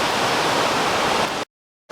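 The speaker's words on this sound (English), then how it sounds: "There's the waterfall up there." A waterfall below a reservoir dam on a forest hiking loop gives a steady, loud broadband rush that cuts to silence briefly near the end, then resumes.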